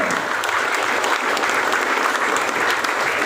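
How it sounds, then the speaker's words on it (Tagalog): A church congregation claps for God at a 26th anniversary service in Ilagan, steady dense applause from many hands filling the room, loud and continuous throughout with no pauses. "lahat po tayo pumalakpak sa ating Panginoon"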